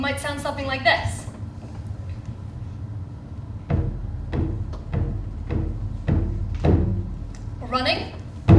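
Drum beats standing in for walking footsteps, struck as a series of dull, thudding hits at a steady, unhurried pace, loud and close, with a brief burst of voice at the start and end.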